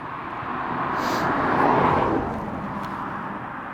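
Happymodel Crux35 FPV drone ripping around at full throttle, a continuous whining rotor buzz that swells and fades slightly as it passes, moderately near, without talk.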